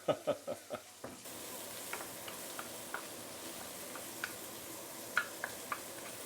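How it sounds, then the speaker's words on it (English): Dried shrimp, shallot, garlic and shiitake mushrooms sizzle in a pan with a steady hiss, after a few sharp clicks at the start and scattered faint taps of stirring throughout. "Saute this for a minute or two before we continue."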